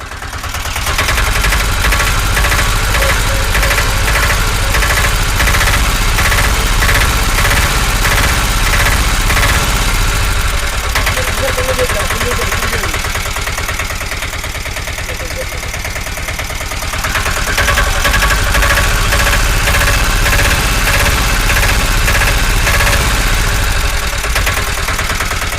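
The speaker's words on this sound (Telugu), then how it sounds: "ఇప్పుడు ఈ సిటీ అప్పి ఇంజన్ స్టార్ట్ చేసిన మనం ఒకసారి దీని బీటింగ్ అనండి" A diesel auto rickshaw engine idles close by with a steady, rapid knocking beat that holds for most of the clip, dipping slightly in the middle before returning, with no talk.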